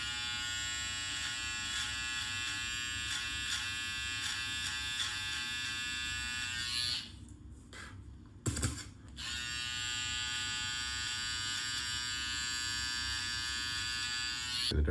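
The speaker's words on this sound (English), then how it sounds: "So that's why it's good to have a nice sharp trimmer." An electric beard trimmer lines up a mustache, buzzing steadily and close up, briefly cutting out and sputtering midway before resuming its continuous hum.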